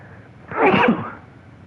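A single close, loud human sneeze bursts out sharply and fades quickly over a quiet background.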